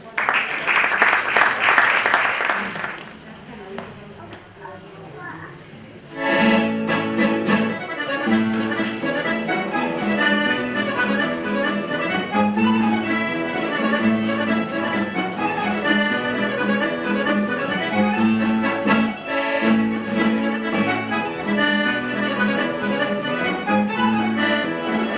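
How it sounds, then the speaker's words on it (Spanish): An audience at a Navarrese jota singing contest bursts into sustained applause, loud and dense, continuing steadily after a brief opening swell and a short dip. "Fuerte aplauso para ellos."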